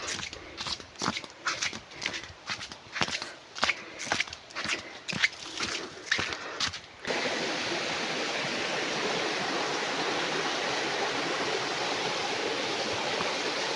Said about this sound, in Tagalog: Sa baba, ilog yun.